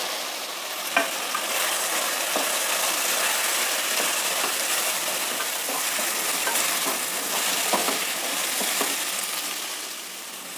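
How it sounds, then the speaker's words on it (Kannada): Roasted moong dal tipped into a pot and stirred while making ISKCON-style khichdi: a steady dry scraping and rustling with faint sizzling underneath and scattered small clinks, close and continuous, no voices. "ಈಗ ಹೆಸರು ಬೇಳೆನ ಚೆನ್ನಾಗಿ ಹುರಿದ್ಬಿಟ್ಟು ಹಾಕ್ತಾಯಿದ್ದೀನಿ."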